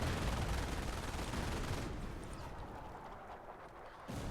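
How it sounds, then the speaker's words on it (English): Mortar and howitzer shelling in Company of Heroes, a World War II strategy game, rumbles in dense distant bursts that thin out midway before another hit lands at the end. "Mortar gently hits the side of the church as the howitzers brutally hit the non-existent bridge now."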